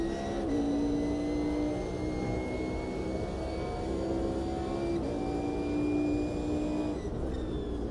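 Race car engine in the sim racing game Automobilista 2 drones at steady, high revs with a sustained buzzing tone, slight pitch shifts as gears hold, loud and continuous with no talking.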